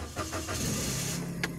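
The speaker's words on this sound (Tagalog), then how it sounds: "Mag-i-start na tayo ng kotse." A car engine starts up close. A short cranking whir catches and settles into a steady low idle, with no talking.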